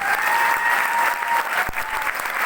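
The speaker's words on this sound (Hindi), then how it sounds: "दोस्तों मैं चाहूंगा हमारे कंपनी के MD and CEO doctor Sanjeev Kumar ji के लिए एक बार जोरदार तालियां" A seminar crowd in Kota gives a company CEO a burst of loud, dense applause, with many hands clapping together at an even level throughout.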